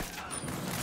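Gunfire in the game Tom Clancy's Wildlands, a brief, dense burst of rapid shots blurring into a continuous loud crackle, with no voices.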